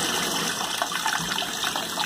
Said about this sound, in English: I'm just going to turn the water on just a little bit here.